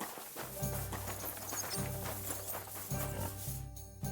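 Horse hooves clop steadily in the video game Kingdom Come: Deliverance II, forming a rhythmic patter under a musical, ambient game soundscape with low tonal hums.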